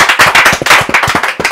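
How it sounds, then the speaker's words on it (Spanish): Audience claps for a band in a studio session, with quick, loud, close hand claps in an uneven burst. "¡Un aplauso!"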